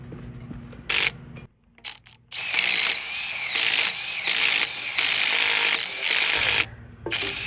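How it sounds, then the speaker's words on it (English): Power drill boring six inches deep into a wooden deck support post: a couple of short bursts, then a sustained high whine for several seconds, ending with a brief pause and a final short burst, loud and close. "So let's drill this out, 6 inches deep."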